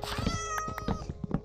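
A cat in the video game Minecraft meows three short, clear times in quick succession, close and fairly loud with nothing else behind it.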